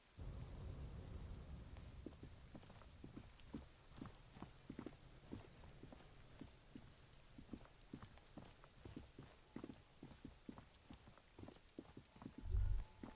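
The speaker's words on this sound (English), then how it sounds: "All around you, rain falls on the great city of Rivershaw." Steady rainfall over the great city of Rivershaw in the video game Disco Elysium, with rain dripping from eaves and flooding gutters; a continuous wash with scattered drips and a low rumble of thunder near the end.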